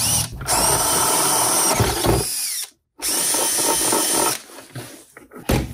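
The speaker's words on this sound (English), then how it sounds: "I'm going to drill a new hole here and put in this T-nut about right there" A power drill bores a half-inch hole for a T-nut in a climbing gym wall, running loud and steady in long bursts with a brief pause midway.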